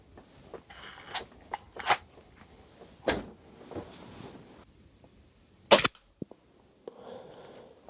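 Black Bunker BM8 5.5mm air rifle shots fired at a 30 metre target, several sharp isolated cracks with gaps between them, one louder than the rest, plus soft handling clatter.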